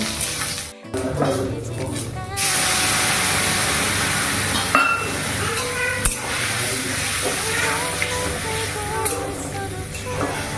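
Brinjal frying in a pan, a loud steady sizzle with stirring and clattering utensils, broken by a brief cut near the start and a few sharp knocks, with faint background sounds.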